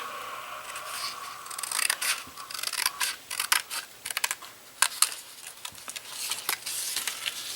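Scissors cutting paper to make an origami bow, a close series of quick snips and crisp paper rustles in irregular bursts, with soft handling sounds between them.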